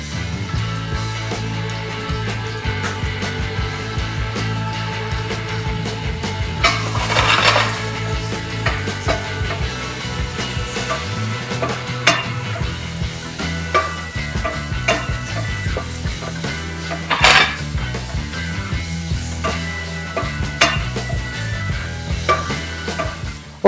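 Chopped mushrooms sauté in a pan with a steady, moderate sizzle, close and fairly loud. Frequent scraping and stirring clatter from a utensil breaks through it, along with a few sharper knocks against the pan. No one speaks.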